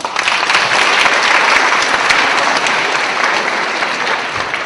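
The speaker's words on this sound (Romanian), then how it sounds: "vă rog să-i aplaudați" An audience at a school anniversary event applauds former graduates, a loud, full, sustained burst of many clapping hands that stays strong before easing slightly.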